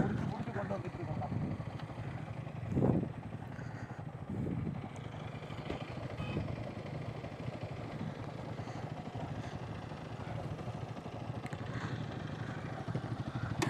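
A motorcycle engine runs steadily at a low rumble with road noise throughout on a ride toward Kolli Hills, a brief louder burst near the start, and faint talk mixed in.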